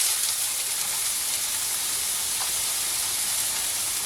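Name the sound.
onion sizzling in hot oil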